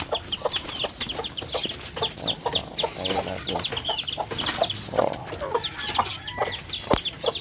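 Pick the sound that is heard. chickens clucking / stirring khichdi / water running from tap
chickens clucking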